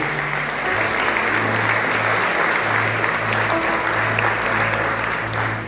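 Sunday-morning church congregation gives sustained, dense applause that fills the hall evenly from start to finish, with a low rhythmic musical tone pulsing underneath.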